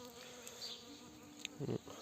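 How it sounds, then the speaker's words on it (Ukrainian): Bees buzz quietly in a steady hum, with a few individual insects droning closer as they fly past. "Бджоли літають, бо тут виходить"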